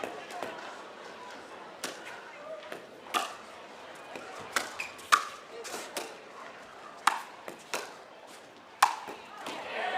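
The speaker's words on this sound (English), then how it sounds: "just the sound of that exploding off the paddle" Pickleball struck hard off paddles during a pro doubles match at the Las Vegas Pickleball Cup: sharp, scattered pops and cracks at irregular intervals over crowd murmur and arena ambience, with voices in the background.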